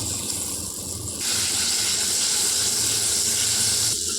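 Butter melts in a hot pan on a stovetop, giving a steady close sizzling hiss that swells a little louder after the first second and holds without pause.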